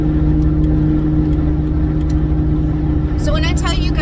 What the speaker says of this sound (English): Sorry, I'm driving.